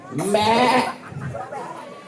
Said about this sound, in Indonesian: Ini kambing moko kita punya nih.